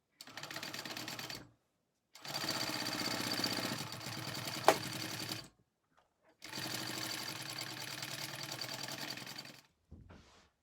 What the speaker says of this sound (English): And then we're going to sew down 1/4 inch